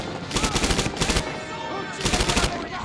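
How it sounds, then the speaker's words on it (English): Rapid bursts of automatic gunfire from the World War II shooter game Medal of Honor: Airborne, loud and close, come as three quick volleys with a short pause between them. "Oh, I'm shooting the friendlies."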